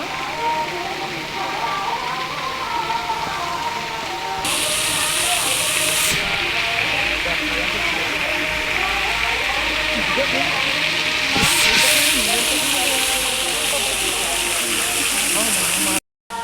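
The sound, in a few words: water flowing over a temple idol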